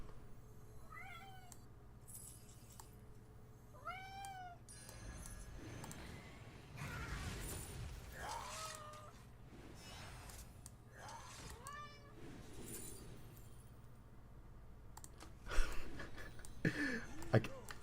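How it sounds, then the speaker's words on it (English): A pet cat named Midas meows repeatedly at close range, several short rising cries spaced a few seconds apart over a low steady hum, with a few sharp clatters near the end. "my cat is slowly making his way up"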